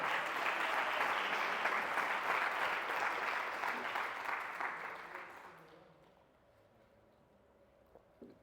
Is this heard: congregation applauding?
yes